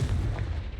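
A Confringo blast spell bursts in the video game Hogwarts Legacy, a short booming explosion with a muffled rumbling tail, heard alone.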